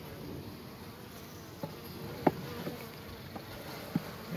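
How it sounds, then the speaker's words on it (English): A soft, steady hum of honeybees emerging from a comb frame fills the background, broken by a few light clicks and taps from close by. "There's a whole frame of bees coming out."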